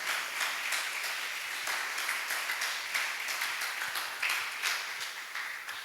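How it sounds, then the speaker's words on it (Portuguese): A church congregation applauds, a steady, fairly soft and distant patter of many hands clapping together without pause. "Pode aplaudir o Senhor."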